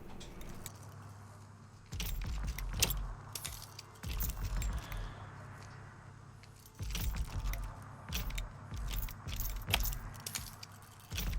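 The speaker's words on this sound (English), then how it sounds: "you'll also need to lockpick the gate that it was hooked up to" Lockpicking a gate in the Texas Chainsaw Massacre video game: metallic jangling and clicking in several bursts, with quieter stretches in between and no talking.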